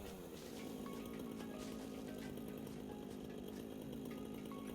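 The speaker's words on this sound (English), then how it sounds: "Don't jump with the chainsaw." A chainsaw in the video game Satisfactory buzzes steadily at moderate level, its droning motor running continuously with small shifts in pitch and no talking over it.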